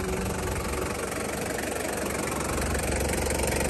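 A 1996 Toyota Land Cruiser Prado TZ turbo diesel idles nearby with a steady, dense rumble that stays even and uninterrupted, with no voices.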